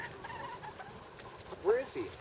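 Chickens cluck in a yard at an off-grid homestead: a faint background murmur, then two short, louder clucks close by near the end.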